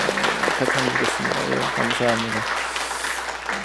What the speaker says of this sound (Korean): 우리 성가대를 또 격려하는 마음으로 한번 박수를